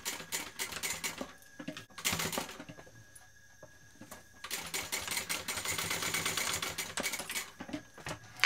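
A sewing machine basting a D-ring connector onto a bag, running in bursts of rapid mechanical stitching with a quieter pause in the middle, close and clear with no talking.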